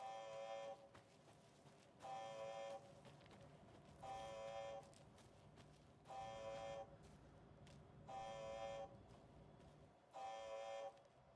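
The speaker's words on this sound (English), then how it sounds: "Let's see what that alarm is all about" Alan Wake 2's alarm repeats as a steady electronic tone, pulsing on and off roughly every two seconds for six cycles over a low background hum, with no talking.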